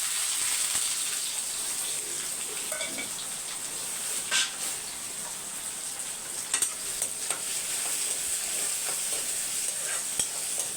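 Onion, green chilli and curry leaves sizzle steadily in hot oil with a continuous bright hiss and occasional crackles and pops, heard close throughout.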